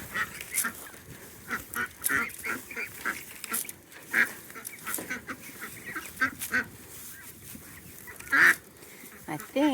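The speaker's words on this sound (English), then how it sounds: "Now, let's give the ducks some more water and some seeds." Farm ducks quack and honk in a busy, overlapping chorus close by during morning feeding with water and seeds, with a person speaking intermittently among them.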